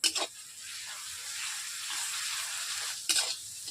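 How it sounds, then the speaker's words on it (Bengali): Garlic paste fries in a pan for a chicken curry, making a soft, steady sizzling hiss. Two short, louder scraping bursts of stirring come at the start and near the end, with no speech. "এরপর দিয়ে দিচ্ছি রসুন বাটা"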